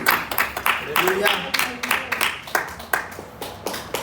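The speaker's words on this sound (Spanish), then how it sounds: "Dele palmas de alabanza al Rey" Rhythmic clapping from a church congregation during a Spanish-language worship service, with a steady beat of many hands mixed with voices and shouts of praise.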